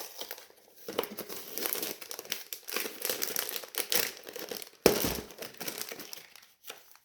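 Parcel from a craft order being unwrapped: close, irregular crinkling and rustling of plastic and paper packaging in bursts, with a sharp tearing rip near the middle.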